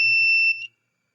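A loud, steady high-pitched electronic buzzer tone from an IR proximity sensor circuit on a breadboard sounds for about half a second, briefly changes pitch, then cuts off into silence.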